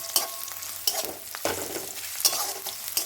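Ginger and cashew pieces, with garlic, fry lightly in a pan, sizzling softly at close range. Sharp utensil clacks and scrapes against the pan recur roughly every half second, and no one speaks.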